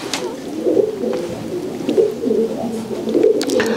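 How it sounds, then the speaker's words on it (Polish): A racing pigeon, a top flying cock, coos softly and repeatedly inside a pigeon loft, with low rolling calls over faint background noise and no talking. "I to jest taki najlepszy samiec lotowy na gołębniku."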